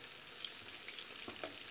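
Whole plaice frying in fat in a pan: a soft, steady sizzling crackle with small pops and a faint scrape, quiet and close, with no voices.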